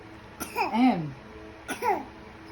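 A baby gives two short, close coughs, voiced and slightly wheezy, separated by a brief pause over quiet room noise.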